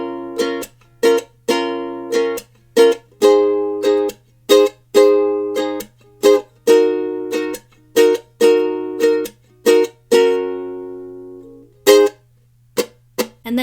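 Ukulele strumming the chords of a song's pre-chorus without melody: close, loud, bright chord strums in a steady syncopated rhythm, each ringing briefly before the next, with short gaps between phrases.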